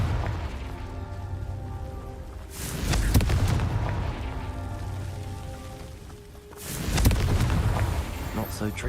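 Confringo blasting spell going off in Hogwarts Legacy, two loud booming bursts several seconds apart, each with a broad crackling roar over ongoing game sound and a speaking voice.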